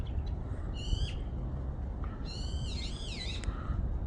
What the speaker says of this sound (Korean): 오늘따라 유난히 새들이 많이 오는데